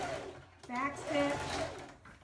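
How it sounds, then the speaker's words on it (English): A short run of a sewing machine back stitching during a garment seam, a brief whirring burst of about a second and a half, close by, with some faint background voice. "Back stitch."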